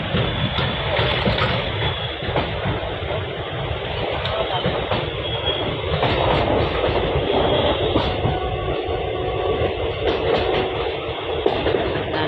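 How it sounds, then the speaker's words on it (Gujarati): A passenger train running at speed on the line from Morbi to Rajkot gives a loud, steady rumble and rattle of wheels and carriages that continues without a break throughout. "ટ્રેન આપણી મોરબીથી નીકળી ગઈ છે ને સ્પીડ પણ પકડી લીધી છે"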